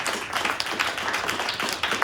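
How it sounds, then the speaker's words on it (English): An audience applauds poetry performers at a casual Monday evening show, a short burst of many hands clapping close by with an even, rapid patter. "round of applause for Major, Minton, Jake, Maggie, Keaton"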